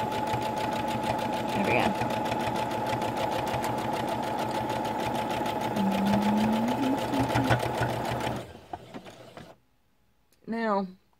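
A sewing machine stitches a gusset into a shirt: a steady rapid mechanical whir for about eight seconds, then it stops and a voice speaks briefly.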